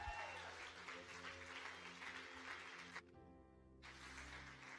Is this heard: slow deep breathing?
no